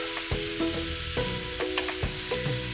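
Onions and garlic sautéing in a pan for Polish cabbage rolls, a steady close sizzle broken by several sharp spatula knocks and scrapes at uneven intervals.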